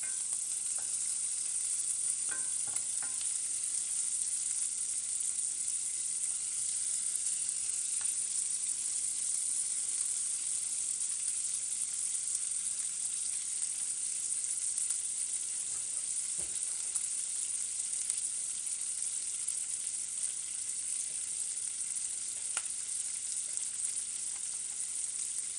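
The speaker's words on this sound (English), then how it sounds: "I'm just going to render it down, crisp it up, render down all that fat" Pork fat rendering in a frying pan for shrimp and grits gives a steady, dense sizzle and crackle that holds through the whole stretch, with a few faint pops and no voices.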